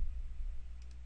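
Two quick, faint clicks of a computer mouse while working in object-counting software, close by, over low background hum.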